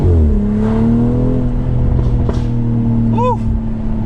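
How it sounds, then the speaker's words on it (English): 2019 BMW X3 M40i exhaust, a close, loud note that falls from a rev as the throttle lifts, with a few sharp crackles and pops near the end over a low rumble. "Hear that snap, crackle, pop?"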